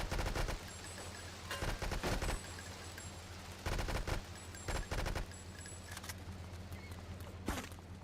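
AK rifle fire in the winter shooter game Frosted Winter, short rapid bursts of automatic gunshots repeating through the scene, loud and close, with quieter stretches of ambient game noise between bursts.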